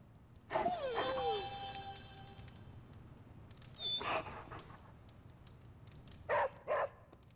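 Charlie the dog in Marvel's Midnight Suns gives a few short barks and yips, one longer whining bark near the start followed by two quick pairs later, fairly quiet against a low room hum.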